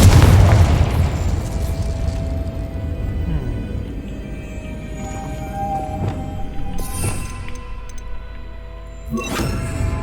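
A Confringo blasting spell goes off in the video game Hogwarts Legacy, opening with a loud booming burst that fades into a rumbling tail, with another sharp crackling blast near the end.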